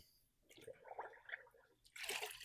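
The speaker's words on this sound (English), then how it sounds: "submerge it, squeeze it to the point of dripping" A car wash mitt is dunked and squeezed in a bucket of wash water during a hybrid car wash, giving soft sloshing and dripping that ends in a louder splashing rush, close up with no talking.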